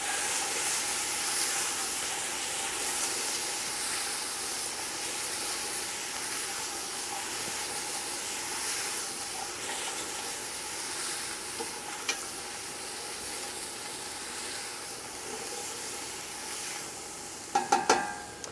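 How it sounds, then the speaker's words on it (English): Peppers sizzle steadily in a hot pan while being prepared for ratatouille, giving a continuous hissing fry with a few stirring clatters near the end. "I'm then going to add my peppers. Again, give it a little stir."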